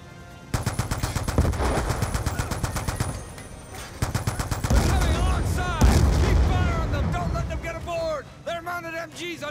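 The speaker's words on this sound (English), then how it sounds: "MGs on each side of the barge!" Rapid machine gun fire from gunboats in Call of Duty: Black Ops 2, sustained bursts of loud rattling shots with heavy booms, while shouting voices cut in over the firing.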